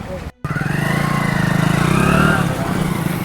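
A motorcycle engine running close by after a brief cut, its steady pulsing thrum swelling slightly as it revs and then settling, with a voice heard over it.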